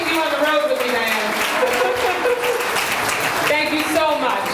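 Dense, steady applause from an awards-event crowd fills the whole stretch, with a voice speaking over the clapping.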